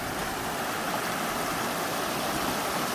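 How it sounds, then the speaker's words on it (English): A small waterfall pours into a flowing stream outdoors at a fishing spot, a steady close, dense rush of water without pause. "Got an amazing view of this little waterfall right here."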